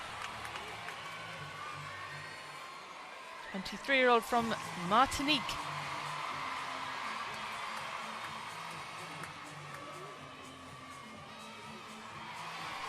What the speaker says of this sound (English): the big cheer goes up for the French gymnast Melanie de Jesus dos Santos